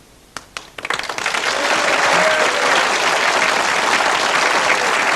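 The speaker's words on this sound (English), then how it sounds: "Applause." A few isolated claps open, then a crowd breaks into loud, sustained applause that holds steady to the end.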